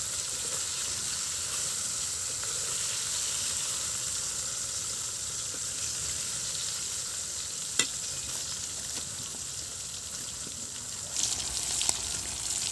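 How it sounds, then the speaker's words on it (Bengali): Small mixed fish fry on a clay stove, giving a long, even sizzle at moderate distance with a sharp clink midway and a few louder stirring scrapes near the end. "এই ফাঁকে এই যে মাছগুলো কিন্তু আমি চুলায় দিয়ে একদম ভাজার মতো করে নিয়েছি।"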